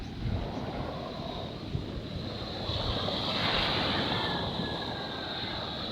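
Strong sea surf and gusting wind on a shoreline in late afternoon, a loud continuous roar with buffeting wind noise on the microphone and waves swelling toward the middle of the stretch.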